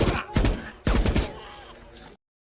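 Automatic rifle fire in a war film scene, two heavy bursts of loud, booming shots with a rumbling tail that fades before the clip cuts to silence.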